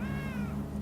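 A cat in The Witcher 3 lets out a single short meow, close and clear over a steady low background hum.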